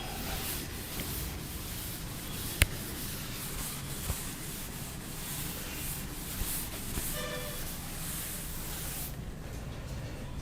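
Steady dry rubbing of a duster wiping writing off a classroom board, a continuous broadband scrubbing texture held for about nine seconds, with a couple of faint knocks, then stopping near the end.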